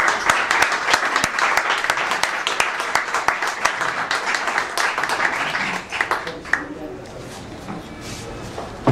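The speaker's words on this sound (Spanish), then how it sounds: "Un aplauso para Yago Chouza." An audience at a poetry tribute evening applauds a poet, dense clapping filling most of the stretch before thinning out and fading into a quieter room.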